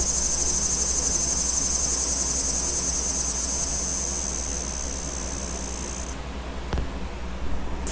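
Cicadas buzz in a steady, loud high-pitched drone outdoors, cutting off near the end, followed by a faint thump.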